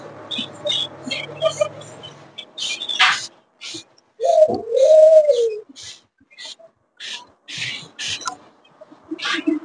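Caged pigeons on a bird farm coo, with one clear, close coo standing out in the middle among sparse chirps and clicks, and a little background speech.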